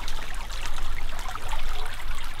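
Water flows in the Lingumbekken brook, a steady close trickling and babbling stream with continuous bright splashing and no voices.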